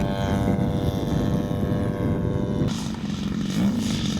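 A RedwingRC Yak 55 radio-controlled airplane with a 50cc engine buzzes loudly as it flies touch-and-goes, a steady droning whine that shifts pitch and tone partway through.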